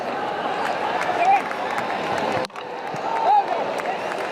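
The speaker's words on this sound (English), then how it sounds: "And the crowd have enjoyed it." Crowd cheering and applauding at a New Zealand versus Pakistan T20 cricket match, a sustained roar of clapping and cheers from the stands with a brief dip midway and a commentator talking over it.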